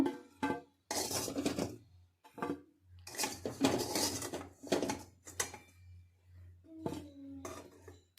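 A spoon and pot clink and scrape in a kitchen as papaya morabba is moved into a serving dish. Bursts of metallic clatter are separated by short pauses.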